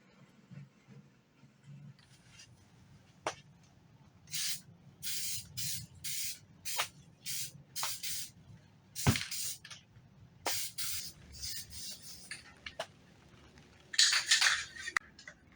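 Degreaser and primer sprayed onto a 2020 Camry SE AWD front lip in short, sharp aerosol bursts, several spaced spritzes separated by quiet handling noises.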